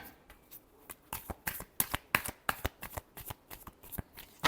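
Tarot cards being shuffled by hand, a rapid run of crisp riffling flaps and soft slaps, close and clear with no voice over them.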